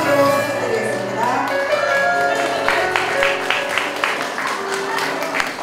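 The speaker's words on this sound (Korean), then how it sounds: "큰 박수로 부탁드리겠습니다" Guests at the opening ceremony of a village autumn festival applaud, a steady crowd clapping that swells into dense claps midway, under an announcer's amplified voice over a PA.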